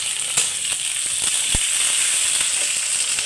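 Chopped onion, tomato and green chilli hit hot oil after a tempering of spices, producing a steady close hiss and crackle with scattered small pops throughout.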